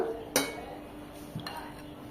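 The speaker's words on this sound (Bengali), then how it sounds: "আরেকবার এভাবে ভালোভাবে নিচের থেকে নেড়ে নিতে হবে, নিচে দেখবেন জমে যায়" A spoon scrapes and knocks through pitha batter in a bowl for Noakhali khola pitha, a couple of faint clinks against the rim over quiet room tone, with no talking.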